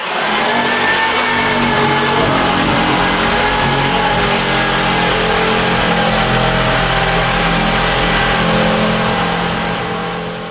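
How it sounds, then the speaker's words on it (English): A jigsaw cuts through narrow lapped floorboards during a bathroom renovation, producing a loud, continuous motor buzz with a rough rasp that runs unbroken for about ten seconds. "is to run a jigsaw. Just run a jigsaw."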